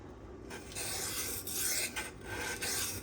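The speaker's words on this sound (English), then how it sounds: "So what I'm doing is I'm running the knife across real quick" A Damasteel blade from a Custom Knife Factory Rotten Design Evo 4.0 is drawn quickly across a sharpener, giving a close, steady rasping grind in several back-and-forth passes.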